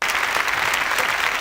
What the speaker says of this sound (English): Can we have some applause